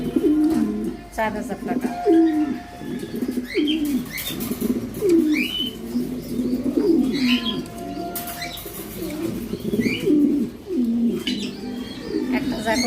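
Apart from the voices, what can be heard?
racing pigeons cooing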